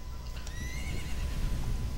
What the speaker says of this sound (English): Why is there a horse in the distance?